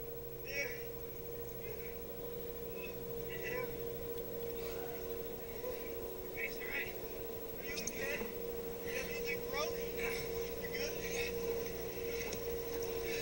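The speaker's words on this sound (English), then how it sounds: "There goes a boat." A motorboat engine drones steadily on the water while out fishing, a constant low hum with intermittent knocks and faint voices over it.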